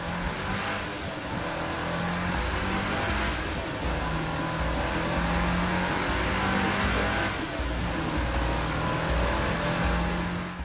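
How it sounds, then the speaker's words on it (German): A new Mercedes-AMG engine runs on a test bench during endurance testing, a loud, steady mechanical roar with a deep pulsing hum that swells and eases slightly, and no voices. "Alle Funktionen des neuen Triebwerks werden getestet"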